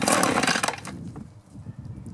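A two-stroke leaf blower engine catches with the choke on, roaring loudly for under a second before quickly dying down to a rough, faint sputter.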